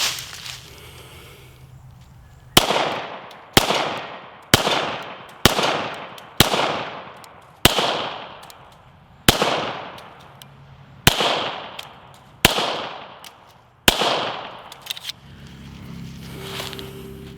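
Ten sharp, loud pistol shots from a Hudson H9 fired at a target, spaced roughly a second apart, each crack followed by a short ringing decay, with quiet before and after.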